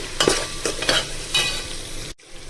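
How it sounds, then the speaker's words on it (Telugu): Tomatoes and beans fry in a pan while a spoon stirs them, giving several scraping strokes over a constant sizzle before a short break and a final scrape. "టమాటాలు వేసుకుని బాగా మిక్స్ చేసుకొని కొంచెం మగ్గనివ్వాలి"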